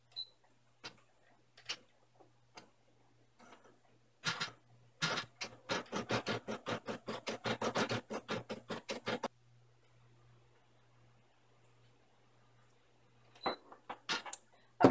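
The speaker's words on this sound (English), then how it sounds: "our next step is some decorative stitching on what will become a window up here" A home embroidery machine stitching decorative satin stitches on fabric for an in-the-hoop castle bag, giving a fast, steady rattling run of needle strikes for several seconds, with a few isolated clicks before and after.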